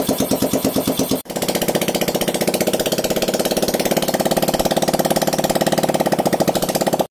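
Vanz concept project motorcycle engine catches after a brief cranking burst, then settles into a steady, loud, close rhythmic idle with even pulsing firing beats and no voices.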